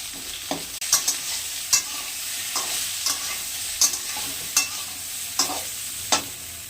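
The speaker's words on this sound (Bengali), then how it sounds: "এখানটা অল্প একটা শুকনো লঙ্কা, একটু মেথি, দুটো তেজপাতা ফোড়নে দিলাম" Dried chili, fenugreek seeds and two bay leaves frying in hot oil for a tempering: an even sizzle punctuated by a regular run of crisp spatula scrapes against the pan, close and without talk.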